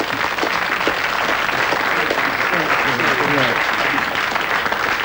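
Studio audience applause fills the room, a dense, steady wash of clapping at close range that holds loud throughout, with a host's voice briefly audible beneath it.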